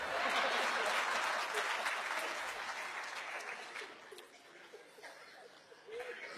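An audience at a book launch event breaks into applause with scattered chuckles, the clapping loud at first and gradually fading as talk resumes.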